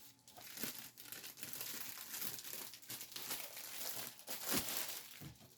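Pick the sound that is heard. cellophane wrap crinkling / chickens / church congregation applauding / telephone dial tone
cellophane wrap crinkling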